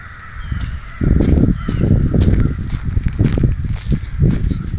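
Small birds calling agitatedly outdoors in a neighborhood, a busy flurry of harsh, repeated chirps and caws close by, continuous and loud throughout.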